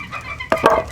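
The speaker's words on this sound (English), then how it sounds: "the reason why we do that is because Saramas they're not really cold weather chickens" Serama chickens clucking close by in a warm indoor coop, a short burst of two or three quick, sharp clucks over a quiet background.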